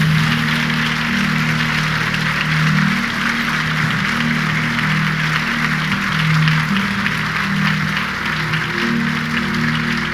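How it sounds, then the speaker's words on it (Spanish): A church congregation claps hands together in a dense, loud, continuous wash of applause that barely varies for the whole stretch, with a low sustained musical tone running underneath. "Dale una ofrenda de palmas al Señor."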